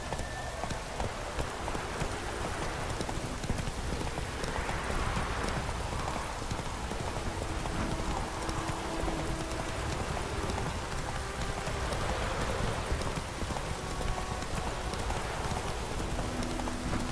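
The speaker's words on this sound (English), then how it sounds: "Run, Roach" A horse gallops in The Witcher 3 video game, a continuous rapid clip-clop of hooves mixed with steady rain, dense and unbroken throughout with no talk.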